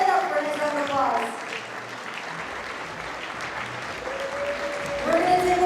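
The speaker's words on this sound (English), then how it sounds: "Let's stand up for a round of applause." Audience at a women-in-leadership gala panel rises for a standing ovation, sustained broadband applause filling the room for several seconds, with voices speaking over it at the start and end.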